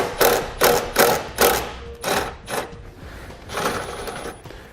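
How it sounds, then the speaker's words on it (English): A hand ratchet with a 10mm socket loosens a nut on a 2015 Lincoln MKX, giving a series of close, crisp clicking strokes in an uneven rhythm. "Using the same 10mm socket, we'll remove the nut that's on it."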